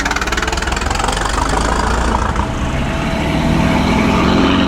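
A vintage Packard car engine runs loud and close at a concours event, giving a steady rhythmic knocking idle that holds level and then swells a little as it passes, with no talking.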